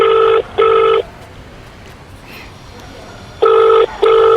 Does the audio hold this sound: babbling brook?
no